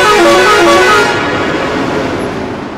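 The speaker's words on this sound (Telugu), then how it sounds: "హారన్ కొడితే ఎవరు రీసౌండ్ వస్తుంది" A vehicle horn blares loud and close inside a road tunnel, a held toot whose echo rings on and slowly fades into traffic rumble.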